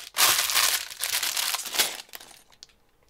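A plastic bag of Lego 80109 Lunar New Year Ice Festival pieces is torn open and crinkled, loud close rustling and crumpling for about two seconds, then fading into a few soft rattles of loose parts.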